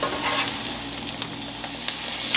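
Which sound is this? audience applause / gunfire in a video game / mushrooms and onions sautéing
mushrooms and onions sautéing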